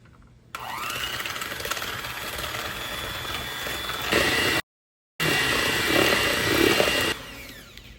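An electric mixer whirs steadily as it beats eggs and sugar for a plain tea-time sponge cake, a constant close buzzing that cuts out briefly, then resumes.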